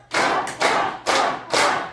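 A group claps four times in a steady rhythm during a laughter exercise, each loud broadband clap burst blending with voiced "ha" laughs, close and energetic, with no other talk.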